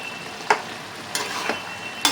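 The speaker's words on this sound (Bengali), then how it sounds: "ভালোভাবে সিদ্ধ হয়ে গেছে একটু নাড়াচাড়া করে নেবো" Boiled ridge gourd and potatoes are stirred in a pan, giving a few brief, separate scraping strokes against the metal with quiet pauses between them.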